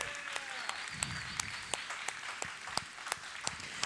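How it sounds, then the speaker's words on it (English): An audience in a museum amphitheater gives a round of applause for a glass demonstration, steady dense clapping with sharper individual claps standing out, with faint voices underneath. "let's give her a big round of applause"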